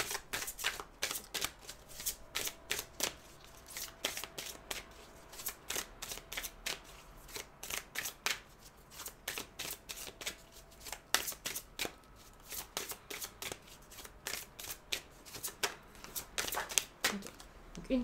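A deck of oracle cards is shuffled by hand during a tarot-style reading, a steady close run of rhythmic flicking and riffling slaps that continues almost without pause.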